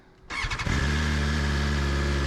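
A 2022 BMW S1000XR motorcycle engine cranks and fires up, catching with a few uneven pulses before settling into a loud, steady idle close by.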